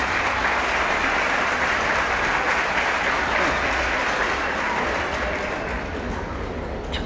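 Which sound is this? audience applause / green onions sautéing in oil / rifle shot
audience applause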